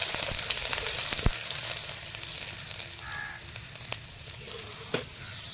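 Tempering spices and garlic sizzle in hot oil for a sole fish curry, a soft close crackle with a few sharp spatula knocks and pops, quieter toward the end, no talk.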